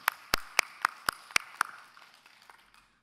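A church congregation at a Saturday dawn prayer service claps in unison, about seven sharp, evenly spaced claps in a quick rhythm, then a softer ragged tail of scattered claps fading out in a reverberant room.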